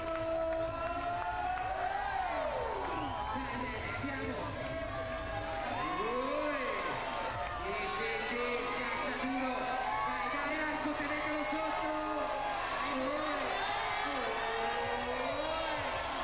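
A crowd at a men's bouldering knockout contest at Rock Master Arco cheers on a climber with sustained roaring, whoops and shouts that rise and fall, while a commentator talks over the noise.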